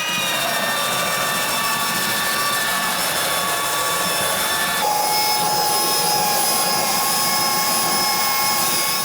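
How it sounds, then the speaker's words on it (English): A palm sander and a random orbital sander whine steadily and loudly on a wooden countertop, with the motor pitch shifting partway through. "I'm gonna be using a palm sander and a random orbital as well"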